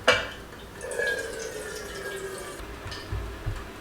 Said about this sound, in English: zero it out first and then we pour the wax in